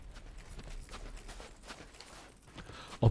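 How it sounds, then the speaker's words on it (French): Footsteps crunching through snow in the video game Dark Souls 2, a steady run of soft, muffled steps at moderate level, with a sharper louder thump right at the end. "les bruits de pas dans la neige"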